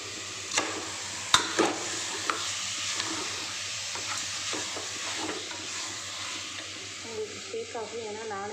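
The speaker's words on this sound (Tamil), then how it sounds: "அதில் போட்டு நல்லா ஒரு 10 நிமிஷமாச்சும் நல்லா வதக்கி விடணும்" Mutton pieces coated in salted masala sauté in a pan, a soft continuous sizzle broken by occasional sharp spoon knocks and scraping stirs, with a faint voice near the end.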